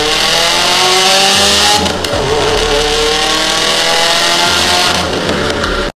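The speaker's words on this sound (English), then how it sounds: "Here's that real gnarly exhaust clip." A real car with a performance exhaust revs loudly and continuously, its throaty engine note rising and holding for about six seconds before cutting off abruptly.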